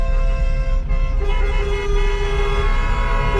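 A car horn honks in a long sustained tone over a steady engine rumble at a youngtimer classic car meet on the Montlhéry circuit, loud and close.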